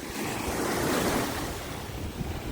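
Ocean surf crashes onto a beach, a broad rushing wash that swells and recedes, loud and close with wind buffeting the microphone.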